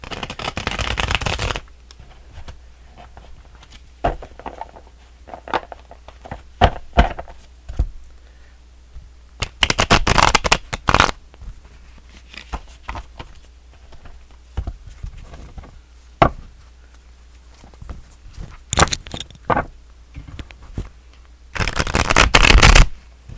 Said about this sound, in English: Let me give this a good quick shuffle real quick.